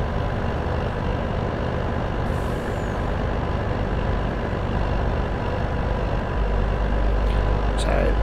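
A truck drives in Farming Simulator 22 during a cotton bale harvest, its engine giving a steady, loud diesel drone throughout, with a brief air-brake hiss near the end.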